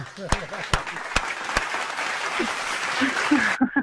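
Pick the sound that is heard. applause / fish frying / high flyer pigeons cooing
applause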